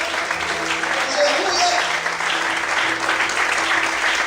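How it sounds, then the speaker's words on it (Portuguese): Church congregation clapping steadily and loudly for God during a Portuguese-language worship service, a dense continuous wash of applause with faint voices mixed in. "Mais fortes palmas para Deus."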